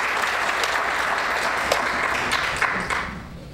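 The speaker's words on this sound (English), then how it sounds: "Round of applause for you guys." Audience applause following a talk at a Rio de Janeiro event, with a dense wash of steady clapping that holds evenly and then begins to thin and fade toward the end.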